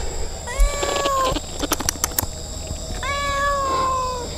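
A cat meows twice, two drawn-out, wavering calls separated by a few short thumps and clicks, fairly close against a low background hum.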